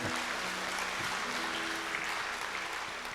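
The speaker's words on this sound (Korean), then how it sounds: "우리 하나님께 감사와 영광의 박수 올려드립니다" Congregation applause at a church dawn revival service, a steady wash of many hands clapping, with sustained organ or keyboard tones beneath.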